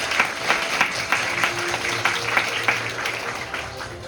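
Steady applause from a seated audience at the opening ceremony of a student model UN conference, a dense patter of many hands clapping together at a moderate, even level, with no one speaking over it.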